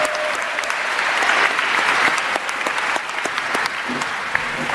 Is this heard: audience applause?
yes